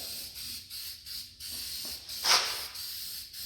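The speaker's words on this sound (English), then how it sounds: "now I'll spray it in here." A spray can applies rust coating to the welded metal of a 1948 Chevy truck, giving one short, loud hiss of spray that rises above a steady background hiss.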